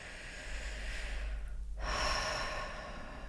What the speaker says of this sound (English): And taking a slow breath in.